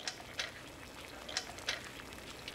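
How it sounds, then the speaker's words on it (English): Water boils beneath a double boiler melting carob chips, a soft bubbling hiss with a few crisp popping bursts, close and quiet with no talking. "I can hear the water boiling under my double boiler."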